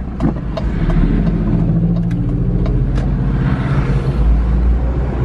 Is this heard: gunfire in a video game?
no